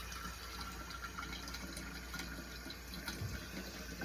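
Lukewarm water runs steadily from a tap, a continuous broadband rush that stays even and close for the whole stretch with no talking over it.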